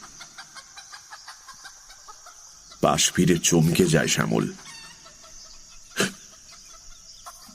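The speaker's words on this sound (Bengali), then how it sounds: "পোল্ট্রির ওদিকে সব মুরগিগুলো একটা হুলস্থুল কাণ্ড বাঁধিয়েছে।" Chickens in a poultry shed at night raise a clucking commotion, a faint, busy din of fowl running steadily in the background while someone narrates over part of it.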